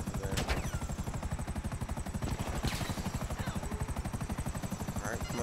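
Helicopter rotor thudding steadily in the GTA 5 video game, with bursts of gunfire and a few sharp shots over the rhythmic chop, fairly quiet overall.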